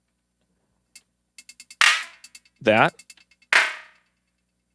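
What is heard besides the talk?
FM clap snare from Roland TR-8S drum machine, isolated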